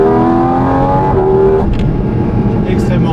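A Porsche GT4 RS with a naturally aspirated engine revs hard, its rising tonal howl climbing, then shifting through a quick gear change into a rougher roar, loud and close.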